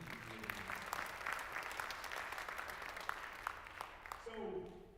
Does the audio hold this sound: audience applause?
yes